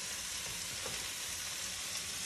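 Garlic frying with sauce in a pan for pad thai, a steady close hiss of sizzling oil with light stirring, continuous and even throughout with no talking.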